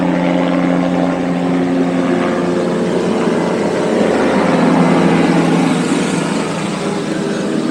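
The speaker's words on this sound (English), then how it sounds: "Helicopter." A steady, loud engine drone from a helicopter overhead near an airport rumbles on without a break, swelling slightly and fading a little toward the end.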